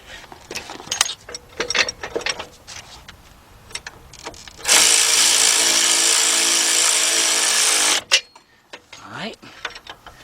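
Ratchet and wrench working an upper control arm bolt on a Lexus LS460, a run of sharp clicks followed by a loud continuous whirring burst of about three seconds, then more clicks near the tool.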